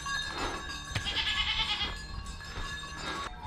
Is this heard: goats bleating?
yes